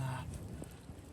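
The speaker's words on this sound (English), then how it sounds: "Pissing down rain." Heavy rain pouring down outdoors on a windy winter day, a steady dense hiss of rainfall on surfaces with a few louder gusts, continuous and without talk.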